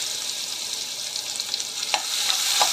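Cumin seeds sizzling in hot oil in a pan, a close, steady hiss with faint crackles and a couple of soft stirring clicks near the end.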